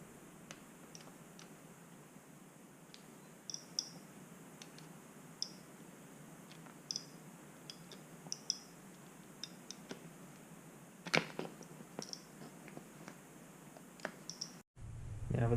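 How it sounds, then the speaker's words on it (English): Tin snips trimming the plastic shroud of a Suzuki RMX450Z dirt bike, heard as a steady run of small, sharp snipping clicks spread across the clip, close and fairly quiet, with no talk. "Just going to cut it with a pair of tin snips."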